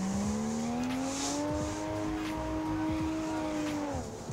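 A drift car in Assetto Corsa on the Ebisu Complex course holds a loud, steady engine note that rises gently through a slide, with tyre squeal and a brief drop as the throttle lifts at the end.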